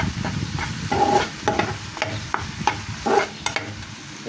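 A spatula scrapes and taps repeatedly through a chicken mixture for mughlai as chaat masala is mixed in a pan, giving a close, rhythmic series of clacks over a low sizzle.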